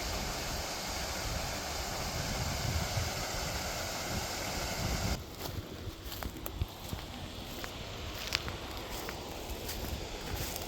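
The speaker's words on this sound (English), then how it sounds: "It kind of looks like a waterfall." Water in a steep stretch of Stickney Run rushes in a loud, steady wash that drops off suddenly partway through, leaving a fainter flow with scattered crunching steps nearby.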